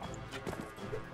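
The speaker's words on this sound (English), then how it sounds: "Oh my gosh, the horse is so slow." Horse hooves clip-clop steadily in Mount & Blade: Warband, a soft rhythmic plodding beneath a dense layer of game ambience, with speech mixed in.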